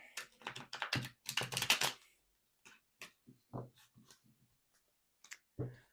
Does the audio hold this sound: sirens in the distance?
no